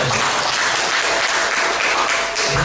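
An audience at an alumni association chair election at Saburai University applauds candidate number 1 with loud, dense, continuous clapping, close and sustained for the whole stretch.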